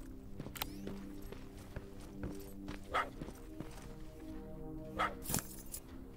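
A dog barks twice, a few seconds apart, in the video game Terminator Resistance, sharp and moderately distant over a steady hum of game ambience and music.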